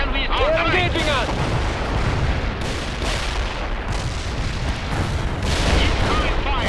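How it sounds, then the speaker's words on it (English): Artillery and gunfire in the video game World in Conflict, a loud, sustained battle roar of booms and crackling shots, with a brief voice heard early amid the din. "Incoming fire, watch out!"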